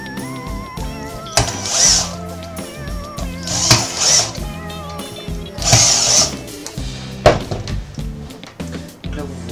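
Small electrical terminal blocks unscrewed with a power screwdriver, whose short whirring motor bursts come in several separate runs between clicks and handling noise, close up, with someone talking over them in French.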